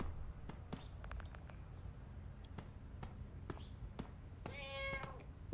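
A cat meows in the horror game Five Nights at Freddy's: Into the Pit, a rising harmonic cry near the end, preceded by faint clicks and soft game ambience; no talking.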